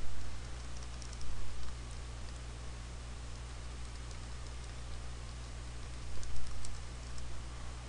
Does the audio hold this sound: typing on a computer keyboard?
yes